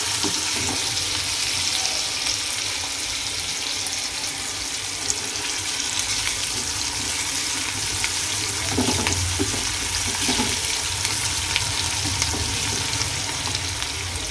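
Onion frying with a pinch of asafoetida in oil for a mixed-dal tadka, a steady close hissing sizzle that holds throughout, with a few faint utensil stirs partway through.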